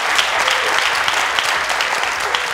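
A studio audience claps to welcome Baku Slavic University onto a show, a dense, even burst of applause that carries on steadily throughout.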